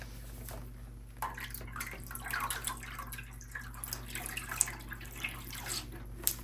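Water trickles and drips into glass mason jars prepared for yarn dyeing, a faint, uneven series of small splashes and drops over a steady low hum.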